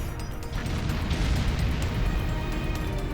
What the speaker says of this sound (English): don't miss the explosion